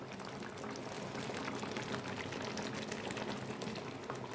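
Turkey berry curry with ground coconut added bubbles at a steady boil in a pot, a continuous close simmering hiss and gentle popping with no voices.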